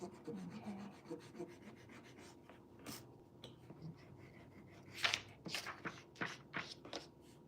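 Quiet, close rubbing of a pencil eraser across paper in short back-and-forth strokes, brisk scratchy bursts coming faster toward the end against a soft room hush.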